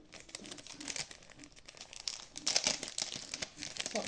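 Crinkly plastic packaging of a Halloween card-making scrapbooking piece being unwrapped up close, with a steady run of crackling rustles that grow louder and busier toward the end.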